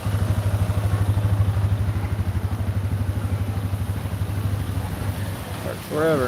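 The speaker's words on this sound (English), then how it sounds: "Motorcycle coming through." Motorcycle passing on a city street outside the J.W. Marriott in downtown Austin, a loud, throbbing low engine pulse close by that gradually eases, with a voice briefly audible near the end.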